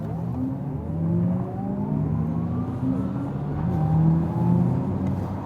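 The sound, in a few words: Audi e-tron GT electric car launch acceleration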